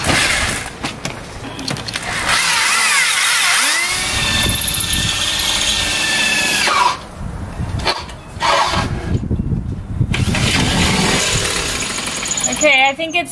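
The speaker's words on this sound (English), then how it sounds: "Next is gonna be drilling it out with the bigger one" A power drill whines and grinds loudly in long bursts, enlarging a hole through metal on a 2014 Dodge Durango R/T for a tow baseplate, with brief pauses and short stops between runs, close by.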